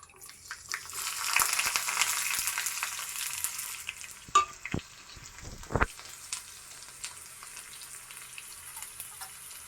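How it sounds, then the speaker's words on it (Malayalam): Mustard seeds, chopped shallots and dried chillies fry in hot coconut oil for a prawn curry, giving a steady close sizzle that swells early on, then a few sharp crackles and pops. "1/2 സ്പൂൺ കടുക് ഇട്ട് ഇനി ചെറിയ ഉള്ളിയും വറ്റൽമുളകും കൂടെ അരിഞ്ഞതിടാം."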